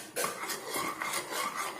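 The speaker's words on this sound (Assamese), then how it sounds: "লৰাই দিছোঁ আৰু অকণমান দি দিম" A spoon scrapes and stirs in a cooking pot while making chui pitha, a run of close, rhythmic metallic strokes repeating steadily with no talk.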